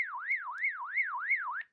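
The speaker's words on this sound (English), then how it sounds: "Got your alarm." Retevis GMRS two-way radio sounding its alert alarm: a loud, steady siren-like tone sweeping up and down about six times in under two seconds, alone with no talk.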